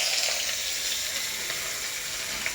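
Chopped onions frying in a pan after eggs have been fried in it, a steady close hiss and crackle of sizzling oil with small pops, continuous and without talk.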